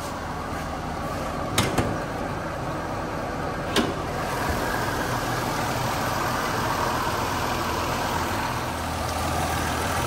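A Toyota Land Cruiser 80 series with a 1FZ-FE petrol engine idles with a steady, low mechanical hum, close and unchanging, broken by a couple of brief clicks.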